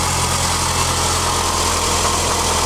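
A Toyota RAV4 engine idling with a noise from a worn idler pulley, a loud steady hum with a low droning tone and constant whirring, recorded close with no talk.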